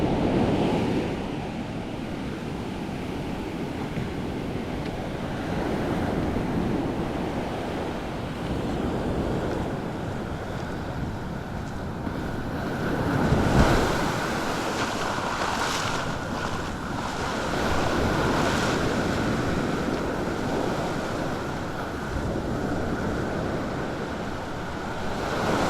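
Surf breaking on Napili Beach in Maui at daybreak, a continuous wash of waves with periodic heavier crashes and some wind buffeting the microphone.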